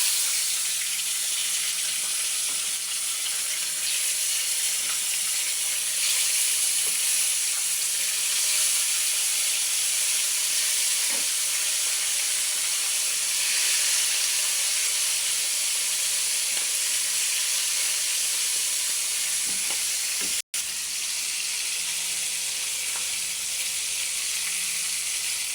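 Marinated milkfish (bangus) fries in a pan at home for dinner, giving a steady, close, continuous sizzle and hiss that runs for the whole stretch with no talking.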